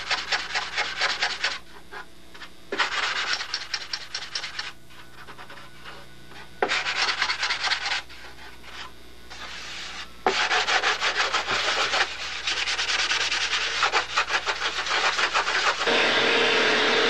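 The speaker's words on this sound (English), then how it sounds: "just knock it down with a little soft sanding block" Wood is rubbed with a small soft sanding block during model aircraft wing building. Close, raspy back-and-forth strokes come in bursts separated by short pauses, and a steady vacuum hum sits underneath.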